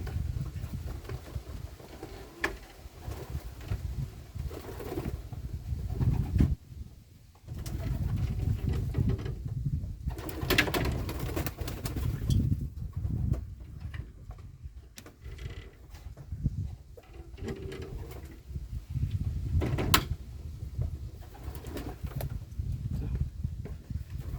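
Pigeons settle into a new dovecote, one sipping fresh water, with soft cooing and rustling wing and foot patter under a constant low rumble, a few brief louder flutters breaking through.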